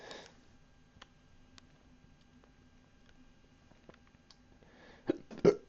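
A burp after drinking beer lands near the end as a short, close, loud belch, following a long quiet stretch with faint ticks and rustles.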